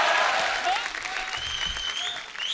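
A studio audience on a comedy talk show applauds loudly as Sanjay Dutt is welcomed, with dense clapping that dips slightly, then swells again, while a host talks over it.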